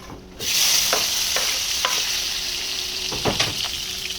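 Chopped chili dropped into frying masala for an aloo and soya chunk dish, setting off a loud, steady sizzle with a few soft stirring scrapes on top.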